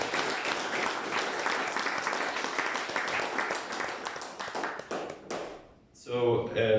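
Audience applause for a team at a Rust London 2023 talk: sustained, dense clapping for about five seconds that fades out before a voice begins speaking.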